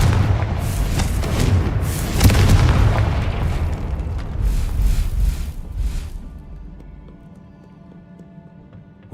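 In Hogwarts Legacy, a Confringo spell sets off heavy booming explosions that rumble loudly for several seconds, then fade into a quieter ambient tone.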